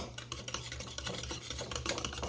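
Pumpkin pie ingredients being mixed together in a bowl, a dense steady scraping and clattering of a utensil stirring, close and continuous.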